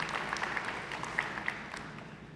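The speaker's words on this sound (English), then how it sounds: "give me a round of applause for the folks who are behind the curtain" Audience clapping at a WV Brownfields and Main Street conference, a faint, steady patter of applause from a crowd with scattered sharper claps.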